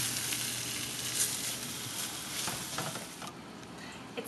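Ingredients with garlic powder melting down in a hot pan on the stove, giving a continuous close sizzle with soft crackles and a few stirring scrapes, no voices.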